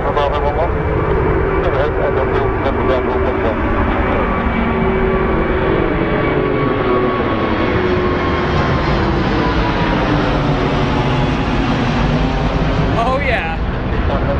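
A large jet departs London Heathrow on a standard westerly departure, its loud sustained engine roar filling the scene throughout with slowly shifting tones, while a voice talks over it and faint radio chatter comes through.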